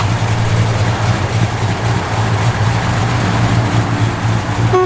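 A 1972 Plymouth Duster V8 idles loud and close, its low steady rumble carrying a rhythmic lopey pulse from the cam, with no talking over it.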